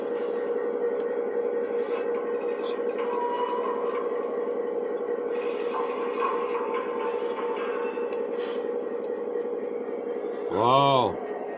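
A train runs on rails with a continuous low rumble and rattle at moderate distance, ending with a brief loud horn-like blast near the close.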